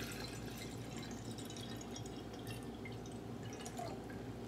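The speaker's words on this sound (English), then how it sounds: "I'm going to measure out another 500 milliliters of distilled water." Distilled water trickles and drips steadily into a container, a soft continuous pouring sound, fairly quiet, with no speech.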